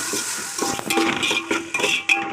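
Tomatoes sautéing in a pan for biryani, with a steady sizzle under several sharp scrapes and clinks as a spoon stirs against the metal, close up and with no one talking.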